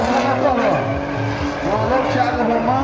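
A drift car driven by Tiago Romano at a 2013 drifting challenge, its engine roaring and tires squealing in a sustained, loud skid, with an excited commentator talking over it.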